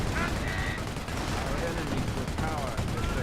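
Battlefield din from Company of Heroes with Vickers machine gun fire: continuous rattling automatic bursts and distant shots under a steady loud wash of combat noise, with a voice talking throughout.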